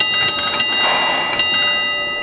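A railway signal box bell at a Lancashire & Yorkshire Railway signalling school rings a bell code, with three sharp strikes ringing out close and clear over a sustained metallic hum.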